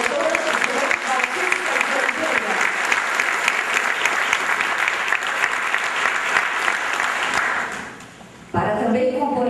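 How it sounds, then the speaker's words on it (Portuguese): An audience applauds a professor at a formal academic ceremony in São Paulo: loud, dense clapping that holds steady, fades briefly near the end, then swells again as the crowd keeps going. "Aplaudimos o professor Dr."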